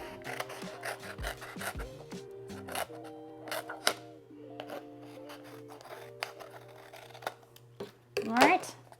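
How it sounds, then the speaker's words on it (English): Repeated snipping and rubbing of scissors cutting material up close, with quiet scraping and handling noises between cuts. "So I'm gonna take my scissors once I'm sure this glue is dry."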